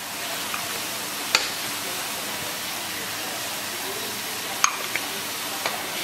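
Diced chicken seasoned with salt, pepper, cinnamon and thyme sizzles in a skillet with a steady, soft hiss. A few sharp clicks and taps of stirring break through now and then, and no one speaks.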